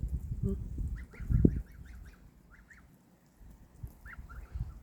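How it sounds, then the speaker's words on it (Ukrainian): A goose sits on a farmyard and gives a quick run of nasal honks, then a pause and a few more, fairly close but soft, over low rustling and handling noise. "Та гуска там сидить. Ось така цікава гуска."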